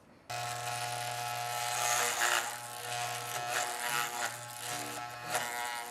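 Electric hair clippers with a number 3 guard hum close by as they cut hair in a home haircut, a steady low buzz that starts suddenly and runs on with small shifts in pitch and scratchy cutting noise.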